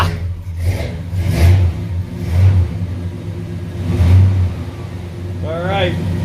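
A classic car engine runs steadily with low mid-range rumble, swelling in a few revs and easing back toward idle, close and fairly loud throughout.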